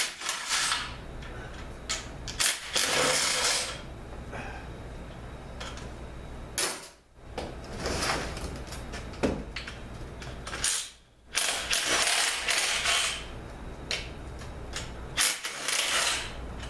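A ratchet with a 15 mm swivel socket loosens the extension housing bolts on a 6L80 automatic transmission. Bursts of close metallic clicking come in spurts, separated by brief pauses.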